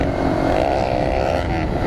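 Motorcycle engines rev on a group highway ride toward Abhaneri, including a Honda CBR, a loud continuous roar of engines and wind rumble that holds steady throughout without pause.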